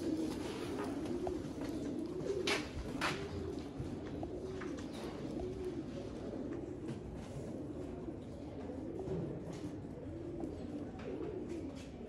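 Pigeons coo in a loft housing about seventy birds, soft rolling coos repeating in a steady rhythm, with a few sharper bird calls and light background noise mixed in.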